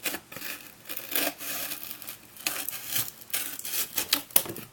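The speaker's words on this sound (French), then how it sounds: "On finit avec le ciseau parce que du coup ça n'a pas tout coupé avec le massicot." Scissors cutting through paper for a secret box, a series of close, crisp snips and scraping slices coming in irregular bursts, alone without talking.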